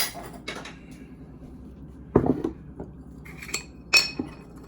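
A cup grabbed from a kitchen cupboard, with dishes and glass clinking: a few quiet clatters and light clinks spread unevenly across a few seconds, close by, with no talking.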